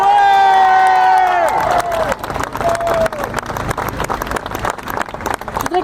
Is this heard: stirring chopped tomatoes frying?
no